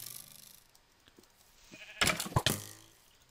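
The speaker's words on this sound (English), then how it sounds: "So I've got 2 red sheep and 2 normal sheep." Sheep bleat in the Minecraft survival game, faint at first and then several short, loud bleats clustered near the end alongside game sounds, with no talk.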